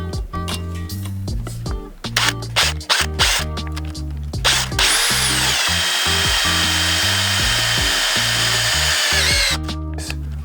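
Power drill driving screws into a greenhouse frame, several short revving bursts, then one long steady high whine, loud and close.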